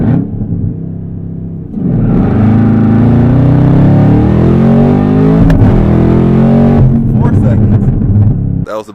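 A car engine roars loudly and steadily as it accelerates hard in a 0 to 60 run, the rumble close and sustained for several seconds before cutting off.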